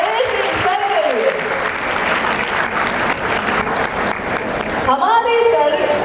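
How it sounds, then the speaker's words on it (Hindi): Loud, sustained applause from a large audience of students at a college event, steady clapping over about six seconds with a presenter's voice rising over it near the end. "जोरदार तालियां हो जाए इस सर के लिए।"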